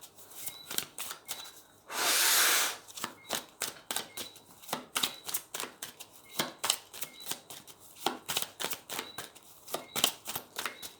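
Tarot cards being drawn and shuffled by hand, with a dense run of crisp, close card snaps and slides, one longer burst of riffling early on, and no talk.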